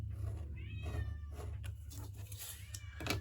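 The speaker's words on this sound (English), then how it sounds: "If you hear my poor kitten, she's suffering so because I won't let her in." A kitten shut outside meows plaintively several times, rising drawn-out cries with short gaps between them, heard from a little distance over a low steady indoor hum.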